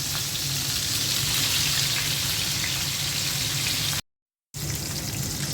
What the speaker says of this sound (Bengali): মাছটা হালকা করে ভেজে নিলাম